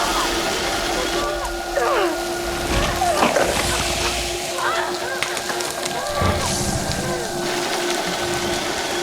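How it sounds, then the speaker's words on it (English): Acid rain falls steadily in an escape room on a competition show, a constant hiss of rain throughout, with shouting voices and a brief whistle-like tone over it. "It's about to rain again!"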